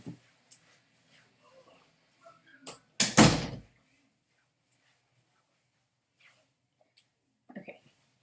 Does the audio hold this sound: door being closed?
yes